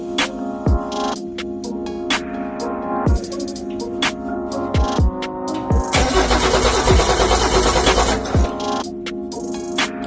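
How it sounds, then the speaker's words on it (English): An early Ford Bronco engine cranks after sitting 29 years with no spark, the starter whirring in repeated short bursts, then a longer, louder stretch of cranking, close up and without talk. "So we hit the ignition switch one more time and we'll see what happens."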